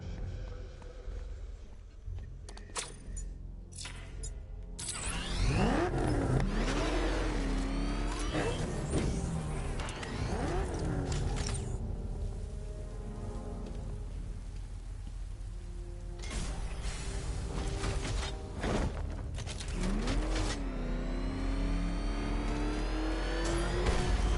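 Batmobile engine in Batman Arkham Knight, loud and continuous, repeatedly revving and accelerating with rising and falling whines, plus mechanical clicks and game effects layered over the drive.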